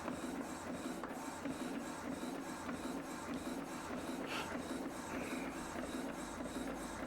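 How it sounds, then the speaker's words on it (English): An Epson EcoTank ET-2840 inkjet printer prints its first page, giving a quiet, steady mechanical whir with a regular pulsing rhythm from the print head passing back and forth, close and uninterrupted. "Now this is the first page that it is printing"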